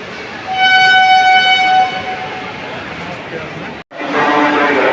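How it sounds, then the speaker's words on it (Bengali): At Sealdah station, a Hasnabad local train stands at the platform as a train horn sounds a long, loud, steady blast, followed by the rumble of platform noise, with someone speaking nearby. "এই হাসনাবাদ লোকাল দাঁড়িয়ে আছে আর এক মিনিট পরেই ছাড়বে"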